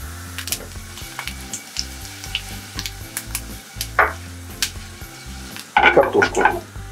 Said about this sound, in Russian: Немножко их припустим в масле. Так, добавляем молотые специи.